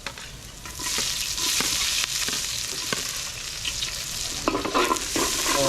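Onions fry in a hot pan, giving off a loud, steady sizzle and crackle that swells and dips as they are stirred. Stirring scrapes and knocks come through clearly.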